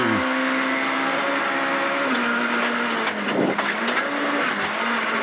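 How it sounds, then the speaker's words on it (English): An Opel Adam R2 rally car runs hard on a forest stage in Fermanagh at the 2018 Lakelands Forest Rally, its engine loud and close, revving steadily with shifts in pitch as it changes gear. "Jordan Hone was closer to home in Fermanagh and leading once again, with his dad Paul calling the notes in the Opel Adam R2"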